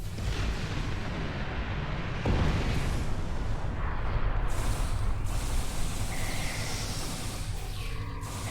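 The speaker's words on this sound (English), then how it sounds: "Normal grenade explosions inside a space station." Grenades explode inside a space station in a Star Trek-style video game with Klingons, heard as heavy, rumbling booms and blasts piled on top of a constant loud din of combat noise.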